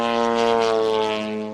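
Radio-controlled model airplane flying at a club field, its small engine and propeller giving a steady buzzing drone that fades slightly toward the end, with no talk over it.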